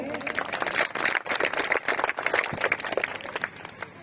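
An audience at a Rajput community speech in Indore claps, producing a dense patter of hand claps with irregular bursts, moderately loud and fairly close.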